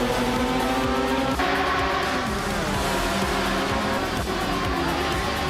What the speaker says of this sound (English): LMP2 cars are dominating the front with consistent pace and quick laps